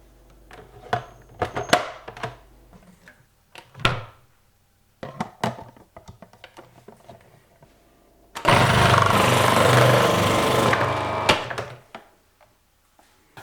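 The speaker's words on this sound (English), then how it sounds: "To grate the potatoes, I'm using my Magimix food processor." A Magimix food processor grates potatoes in the kitchen. A few clunks and knocks of loading come first, then a loud whirring grind of the motor and blade that runs for about three seconds and stops.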